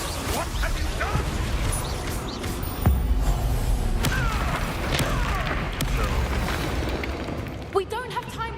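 A Confringo fire-blast spell bursts during combat in Hogwarts Legacy, with a booming explosion amid continuous rumbling battle noise and a sharp impact near the middle. A character speaks over the noise.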